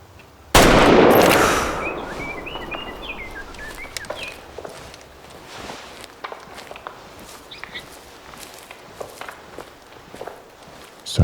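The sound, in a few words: gunshot fired at an animal while hunting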